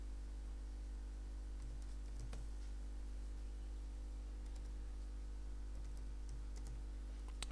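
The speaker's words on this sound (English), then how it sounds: "And then we need to type in the website that we want to go to." Typing on a computer keyboard, with sparse clusters of light key clicks over a steady low electrical hum, close and quiet.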